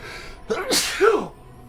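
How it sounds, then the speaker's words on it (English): A single loud sneeze up close, a quick sharp intake followed by an explosive burst, then quiet. "Oh, I feel a sneeze."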